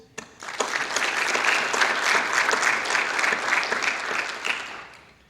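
Enthusiastic applause from a large audience swells quickly, holds at a dense steady roar of clapping, then tapers off near the end, at an athletic signing day ceremony.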